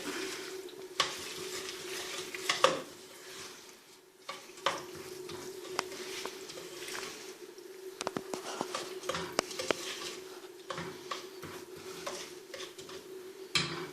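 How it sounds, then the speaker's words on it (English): A spoon stirring a syrupy vegan protein bar mixture in a pot over medium heat, soft scraping and gentle sizzling patter continuing steadily, quiet and close, with occasional light clinks against the pot. "we're going to mix this all up"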